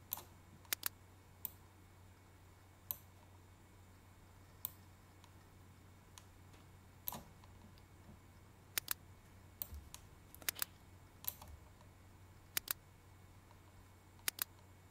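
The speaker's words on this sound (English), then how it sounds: "to navigate around my tree, I'm pressing my space bar and clicking and dragging" A computer keyboard space bar and mouse clicking while navigating design software, sparse sharp clicks scattered irregularly against a quiet background hum, with no talking.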